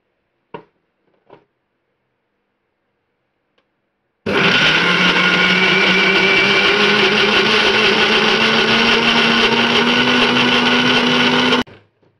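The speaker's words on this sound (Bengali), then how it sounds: "শিলনোড়া তো পেস্ট করতে পারেন, আমি মিক্সি করে নিচ্ছি।" A kitchen mixer grinder blends taro (kochu) with water into a paste, starting abruptly after a couple of small knocks and whirring loudly and steadily for about seven seconds before it cuts off.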